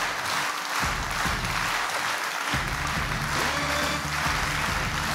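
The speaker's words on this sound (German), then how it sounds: "Applaus" Audience applause rings out during a squats challenge, loud and continuous clapping that runs the full length with a brief dip partway through.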